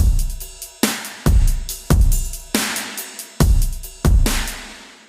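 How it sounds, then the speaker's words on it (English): Full electronic drum kit loop for a melodic dubstep or chillstep track, with strong kick hits, cymbals and hi-hats in a steady pattern, loud and close, played alone without any voices. "first what I have is just a drum kit"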